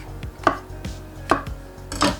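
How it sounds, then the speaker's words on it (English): Knife chopping mushrooms into quarters on a cutting board for a creamy pesto tortellini: four crisp, close chops spaced at an unhurried, steady rhythm, each a sharp knock of blade on board, with no talking. "let me cut this beautiful mushroom. I'm just gonna cut them into quarters."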